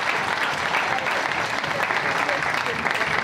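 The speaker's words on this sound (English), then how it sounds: "first a big round of applause for Rianne" A large audience at the opening ceremony of the European Youth Championships 2021 in Tilburg, Netherlands, gives a steady, dense round of applause that fills the hall evenly from start to finish.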